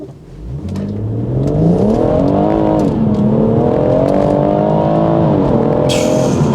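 BMW M140i engine revving hard during a launch control attempt, climbing quickly to a loud, sustained high rev that wavers up and down, close and dominant with no talk.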